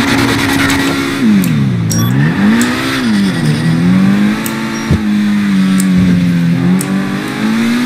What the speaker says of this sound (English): The engine's doing pretty good.